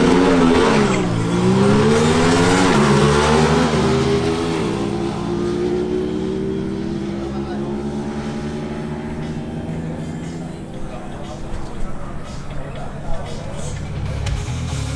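Two Aprilia RS 660 sport motorcycles launch in a drag race, their engines revving hard and rising through the gears in a loud rush that fades with distance. A voice talks over the engines.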